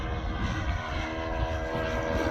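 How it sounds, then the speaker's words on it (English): Seagull Spacewalker 1.20 RC model airplane flying outdoors on a cold day at its maiden flight, a steady, continuous engine drone held at even loudness throughout, with no voices. "Nice airplane."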